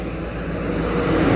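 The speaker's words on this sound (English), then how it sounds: "And here comes a car." A passing car on a neighbourhood street, a steady broadband roar that swells gradually louder as it approaches, with no talk over it.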